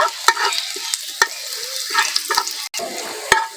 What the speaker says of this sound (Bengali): রসুনটাকে হালকা করে ভেজে নেব